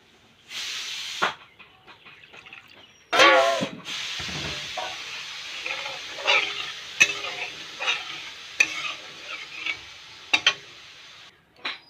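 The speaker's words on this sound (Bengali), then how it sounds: "এখন জল দিয়ে দেবো।" Water is poured into a pan of simmering fish curry and stirred, giving a sudden hiss and sizzle followed by scattered scraping and clinking of a spoon against the pan, close and fairly quiet.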